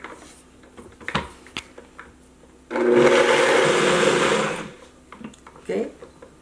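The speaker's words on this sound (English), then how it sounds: "and blend it on the high speed" Strawberry pudding mixture with heavy cream and syrup whirs in a blender on high speed, a loud steady roar lasting about two seconds, with quieter kitchen clatter before and after.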